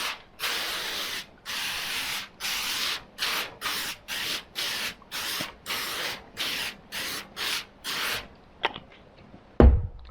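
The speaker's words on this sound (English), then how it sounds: "wondering why I'm spraying this cooking spray" Cooking spray hissing from an aerosol can onto aluminum foil in a run of about a dozen short, evenly spaced bursts, close and crisp, ending with a few faint clicks and a soft thud.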